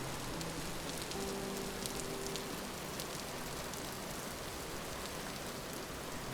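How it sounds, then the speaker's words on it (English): Steady rain in the video game Vintage Story, an even, continuous hiss of falling drops throughout with no talking, moderately loud and unbroken from start to end. "our crop should be happy with the rain."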